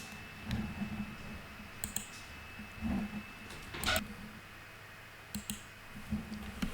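A computer keyboard, used while building an Excel dashboard, gives a handful of isolated key clicks spaced a second or two apart, including a press of the Escape key. The clicks are faint and sharp over a quiet room hum, with no talking.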